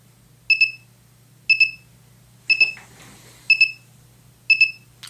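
A battery charger finishing a charge on an SC05 Sport Cup PNP battery gives five loud, clear electronic double-beeps about once per second, with a brief soft rustle between two of them.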